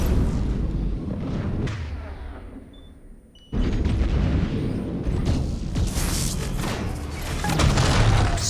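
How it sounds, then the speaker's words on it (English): Heavy booming impacts and rumbling blasts from a Mass Effect 3 battle as a warp attack strikes a target, loud and sustained with a short drop-off midway before a sharp renewed burst and ongoing roar. "Let's hit that thing with a warp."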